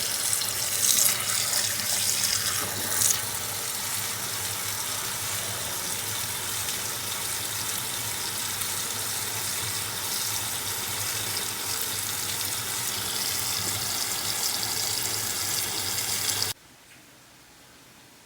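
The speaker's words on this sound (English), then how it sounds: "Let's wash the vegetable carefully." Water spinach being rinsed under a running kitchen tap, a steady broadband rush of water splashing into a sink for most of the span, then cutting off abruptly near the end.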